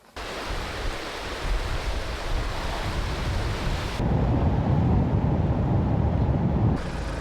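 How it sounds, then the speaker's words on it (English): Rushing water at the Sopotnica waterfalls in Serbia, a loud, constant broadband roar that swells and grows deeper midway, with no talking. "we are arriving at the Sopotnica waterfalls"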